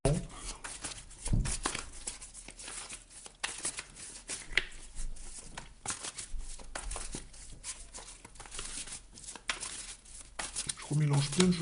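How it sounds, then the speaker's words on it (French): A deck of tarot cards is shuffled by hand, with repeated riffling and rustling bursts in an uneven rhythm close by. "Je remélange bien le jeu pour vous les amis."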